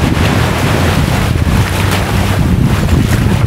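Boats cruise on the sea off Patong beach in Thailand on the Andaman Sea, a steady rumbling wash of engines and water heavily buffeted by wind across the microphone, with no talking.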